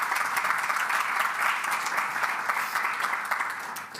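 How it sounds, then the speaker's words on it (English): Steady applause from a conference audience at a digital green technology event, a dense, even wash of many hands clapping at once, sustained throughout and easing slightly at the close. "I think that deserves an applause."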